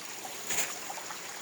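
Spring water flowing straight from a natural source, a brief, even, hissing rush of running water heard close up with no voices.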